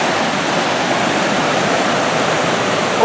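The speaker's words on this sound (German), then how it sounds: "Ultra, mega, hyper viel Wasser." The Große Tulln river near Neulengbach, Austria, runs in high flood water, a loud, steady, close roar of rushing water with no pauses.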